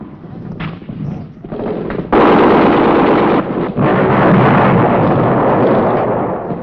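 Heavy gunfire from a 1966 Vietnam War combat film, with Marine riflemen fighting Viet Cong along a trail: dense, continuous bursts and booms that swell louder halfway through and roll on without a break.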